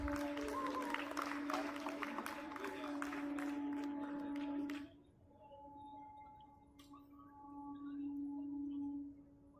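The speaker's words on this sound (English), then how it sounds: "Let's show our appreciation with a big round of applause as he comes onto the stage" An alumni reunion audience applauds in a brief round of clapping that stops abruptly, leaving a quiet room hum with a few stray claps afterward.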